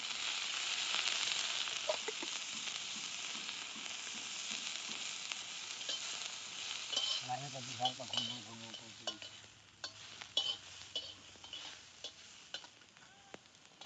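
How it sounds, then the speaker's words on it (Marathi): Oil sizzles steadily as onions fry on a griddle pan outdoors under open sky, a constant hiss with occasional stirring clinks and scrapes, plus a brief low hum partway through. "आता तवा तापाय ठेवला या, त्याच्यात कांदा भाजून घेणार आहे मी."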